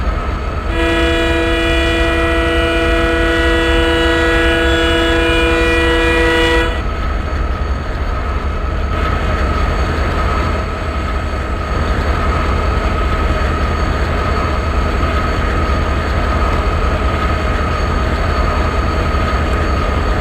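The 16335 Nagercoil Express passenger train nears a junction: a loud, sustained horn blast sounds for several seconds, then the train's steady rumble and rolling wheel noise carry on.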